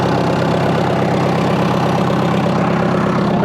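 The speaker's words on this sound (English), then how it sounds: "We have an exhaust leak." Loud, close idle of a broken excavator engine with a leaking exhaust, a constant rough rumble with a faint knocking texture and no voices.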